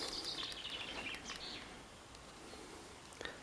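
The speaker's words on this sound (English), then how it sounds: "Ignore me and listen to the birds." Birds sing and chirp outdoors on a walk, a high warbling phrase standing out early among faint calls over a soft, steady background hiss.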